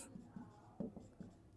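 Pen writing out a math solution on sets, a quiet scratchy stroke broken into short bursts with brief pauses, faint and close, with no speech.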